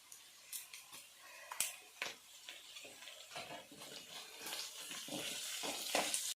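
Garlic and dried red chillies fry in oil for a velakkaya (wood apple) pickle, with quiet irregular crackles and ticking spatters that build into a denser sizzle toward the end.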